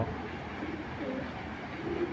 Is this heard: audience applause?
no